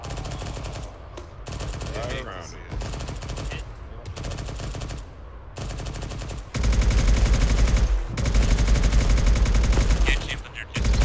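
Sustained rifle and machine-gun fire aimed at a landing ship in the military shooter Arma 3, rapid bursts growing denser and louder into a continuous roar, with voices talking over it.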